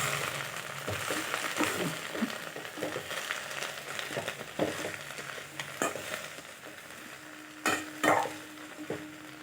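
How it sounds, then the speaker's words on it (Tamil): Coriander leaves sauté in a pan for coriander chutney, with a continuous low sizzle broken by stirring scrapes and a few sharp clicks of a utensil against the pan. "இதை நல்லா கொஞ்சம் வதக்கிக்கலாம்"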